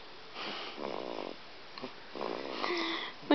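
A person snoring nearby, soft rasping breaths in a slow rhythm with a couple of drawn-out snores, faint and close in a quiet room.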